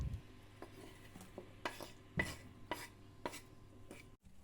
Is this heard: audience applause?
no